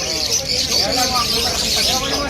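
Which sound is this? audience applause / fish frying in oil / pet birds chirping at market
pet birds chirping at market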